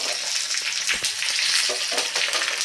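Sesame seeds and slit green chillies crackle and sizzle in hot oil in a home kitchen pan, a steady close frying hiss with scattered pops and a brief stir throughout.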